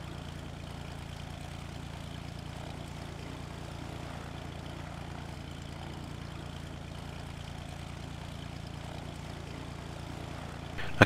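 An aircraft engine in a flight simulator drones in a steady, low, even hum with no pauses, ending in a brief louder bump at the very end.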